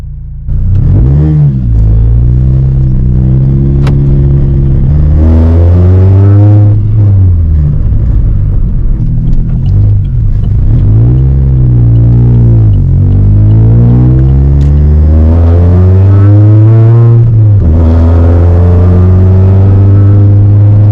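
2006 Saturn Ion Redline with ZZP 2.8 pulley mod, supercharged engine revving up through several gears with rising and falling pitch between shifts, loud and close from inside the car, no talking.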